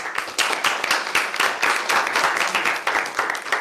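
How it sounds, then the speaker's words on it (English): A student senate meeting breaks into a round of applause, dense overlapping clapping from a crowd in a room, loud and steady for a few seconds with no speech over it. "Round of applause for that."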